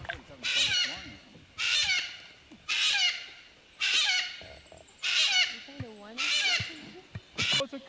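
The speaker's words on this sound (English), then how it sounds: "Oh, it's a cockatoo." A cockatoo on an island in Palau gives a series of loud, harsh screeching calls in a repeated rhythm, about seven bursts with short pauses between them. People talk quietly between the calls.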